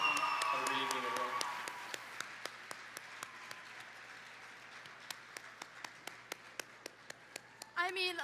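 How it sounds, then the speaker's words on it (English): Applause at a gala with a speaker's voice at the start. The clapping thins to a sparse, steady run of single claps, and a voice returns at the end. "let's get another round of applause for that incredible announcement"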